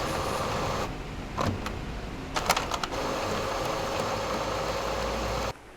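An Epson EcoTank ET-3850 printer whirs steadily during setup, with a few clicks and mechanical ticks over a continuous motor drone that cuts off near the end.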